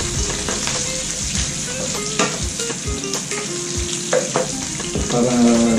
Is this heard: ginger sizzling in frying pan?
yes